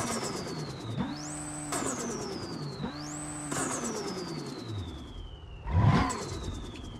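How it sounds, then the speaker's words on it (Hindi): Turbocharged tuned Suzuki Swift engine in the BeamNG driving game revving in two clear rising pulls, then a falling whine and a louder burst near the end, close and with no speech. "और इसका साउंड सुनो एकदम, इसमें भी भाई टर्बो लग रखा है।"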